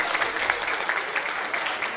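Audience applause fills a school annual function hall, a steady wash of clapping hands with individual claps standing out, continuing throughout without a pause.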